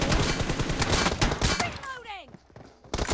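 Rapid bursts of video game gunfire crackle loudly and continuously for most of the stretch, with a voice talking over them. Falling whistle-like tones follow, then a short pause before a final burst.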